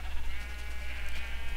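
Minecraft sheep bleat in a short burst of game audio, a few close, wavering baa calls layered over steady background hum.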